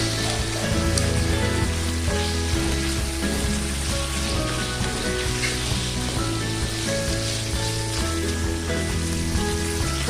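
Pork sizzles and crackles steadily in hot oil, rendering its fat, a dense close frying hiss with occasional stirring, no voices.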